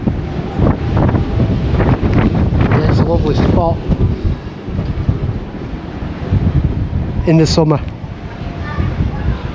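Strong gusting wind buffeting the microphone outdoors on the deck of the P&O Iona cruise ship, a loud low rumble throughout, with someone talking over it.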